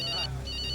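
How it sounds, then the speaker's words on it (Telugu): A telephone rings in two short electronic bursts separated by a brief pause, with a low voice murmuring underneath. "చూసావా, ఫోన్ కూడా మోగుతోంది."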